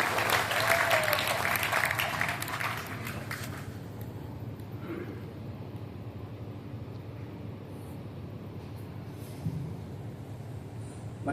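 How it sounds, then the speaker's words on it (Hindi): A burst of audience clapping at a Hindi poetry gathering, a kavi sammelan, lasts about four seconds and then fades to quiet room murmur and faint sounds. "एक बार जोरदार ताली बजा करके मुझे बताइए।"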